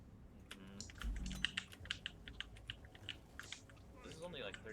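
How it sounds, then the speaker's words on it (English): Clicky keystrokes on a computer keyboard patter in quick, uneven bursts, close and moderately loud, while people talk over them. "You want a mechanical keyboard though."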